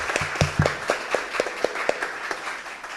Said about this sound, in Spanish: Primero un fuerte aplauso.